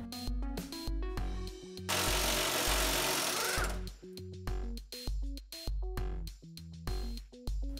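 A power tool works the fuel tank strap fasteners on a Ford Ranger during fuel pump replacement, firing in short repeated bursts with a long continuous run in the middle, loud and close with no talking.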